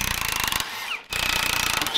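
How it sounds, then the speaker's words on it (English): A power tool unbolting bolts from a bracket on a bus axle, loud rapid hammering bursts that briefly cut out before resuming at full strength. "got to unbolt three bolts on this side to drop this bracket out"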